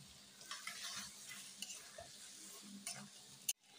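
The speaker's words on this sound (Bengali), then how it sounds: "সস দিয়ে আমি ভালোভাবে কষে নেব।" Chicken kosha sizzles and is stirred in a pan with added sauce, with the soft scrape of a spatula over low, steady frying. A sharp clack ends the clip.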